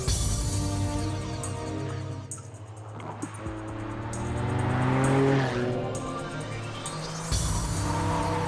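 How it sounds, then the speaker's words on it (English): An M12 two-seater sports car power sliding out of a corner, its engine roaring and revving with rising and falling pitch, the note swelling as it accelerates and tyres squealing, loud and close with no talk. "the rear of the car will slide out"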